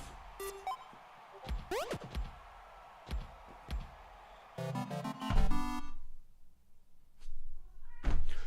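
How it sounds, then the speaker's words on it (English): A house cat meows several times, short rising cries scattered among soft thumps and knocks in a quiet room. "The cat is going to need to be fed. Otherwise, he will never leave me alone."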